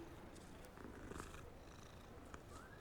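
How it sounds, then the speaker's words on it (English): A Siamese cat purrs in the video game Hogwarts Legacy: a soft, low, continuous rumbling purr, quiet and steady for about three seconds, with no voices. "Oh, is that a Siamese cat?"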